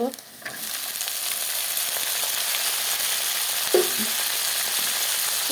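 Tomatoes tipped into hot oil for a tilapia and potato curry, a brief soft clatter as they drop in, then a continuous strong sizzle with a small knock partway through.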